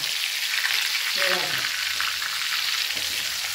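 Bangda mackerel coated in coarse semolina fries on a tawa, giving a steady, even sizzling hiss that carries throughout with a brief soft clatter midway.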